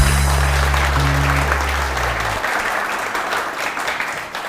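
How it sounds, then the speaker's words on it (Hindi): A studio audience on a TV morning show breaks into sustained, dense clapping, with loud music underneath at first that stops midway, leaving the applause alone. "बहुत सारी तालियां उरूज के लिए।"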